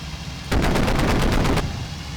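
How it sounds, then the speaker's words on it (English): Explosion in the flight combat game Il-2 Sturmovik: Cliffs of Dover, a loud sudden blast followed by about a second of rapid crackling bursts over engine drone, then fading back to the engine. "That's a heck of an explosion."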